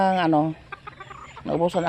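Backyard chickens cluck loudly and close by in two quick bursts, with a softer murmur between them.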